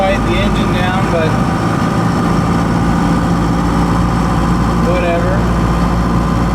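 A 4BT Cummins diesel engine swapped into a Ford F150 idles in neutral, a steady loud low drone heard from the cab interior with a faint higher tone drifting over it.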